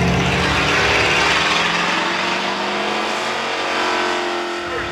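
A 1980 Chevrolet Monza drag car that runs in the Super Pro class at London Motorsport roars loudly and close by, a steady, heavy engine note that holds for the whole stretch with no talk over it.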